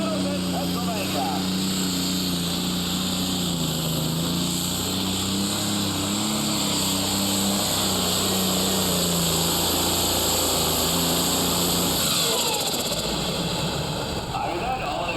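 A John Deere super stock pulling tractor with a single turbocharger roars steadily at a county fair pull in Somerset, Pennsylvania, a loud sustained engine drone that shifts and fades near the end under an announcer's talk.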